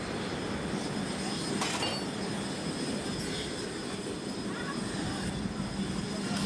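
Aircraft engines roaring on the flight deck of the French carrier Charles de Gaulle, a steady, dense, unbroken wash of jet noise that holds at an even loudness throughout.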